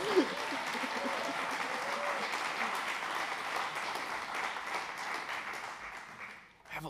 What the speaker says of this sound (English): It's always nice to have an audience that applauds.